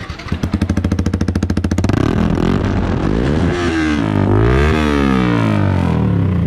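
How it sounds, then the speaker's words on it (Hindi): A KTM motorcycle fitted with an Akrapovic exhaust fires up and settles into a loud, close idle pulse, then revs up and down several times in rising and falling sweeps. "इसमें भी ऐसी आपने एकरा का एग्जॉस्ट लगाया है तो थोड़ा सा स्टार्ट करके इस हसीना का आवाज़ सुना दो"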